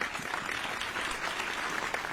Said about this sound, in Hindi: तालियों से सूचित करिएगा